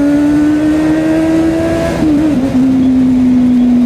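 A Kawasaki Z800 naked motorcycle at speed, around 120 km/h on a curvy road, with a loud steady engine drone that holds pitch, dips briefly and then settles, recorded close from the bike with no talk.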